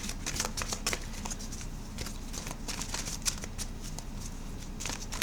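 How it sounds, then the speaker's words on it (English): Oracle cards being shuffled by hand, quick, close riffling flutters and soft slaps repeated in an uneven rhythm throughout. "I'm going to pull an oracle card for you here"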